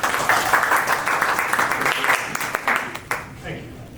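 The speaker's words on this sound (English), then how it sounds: "let's give a round of applause and welcome Jack" An audience at a talk on AI and agile teams applauds to welcome the next speaker, a sustained burst of clapping from many hands that gradually thins and fades toward the end.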